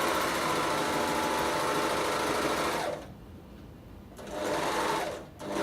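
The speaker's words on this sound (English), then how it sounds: "I'm sewing straight down my seam to the end" A Bernina overlocker runs steadily along a seam with a loud, continuous high-speed whir, eases off briefly partway through, then surges back to full speed before a short stop near the end.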